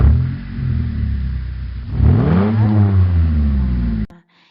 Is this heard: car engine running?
yes